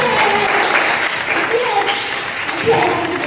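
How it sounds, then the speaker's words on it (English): Audience applause for the winning team at a school quiz on Swami Vivekananda's life, a steady broadband clapping that runs the whole time, fairly loud and close, with a few tonal pings and some voices mixed in. "A very big round of applause."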